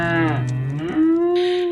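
Cattle bawl loudly at close range, one long low moo that bends upward into a higher, drawn-out call, heard alone without other sounds.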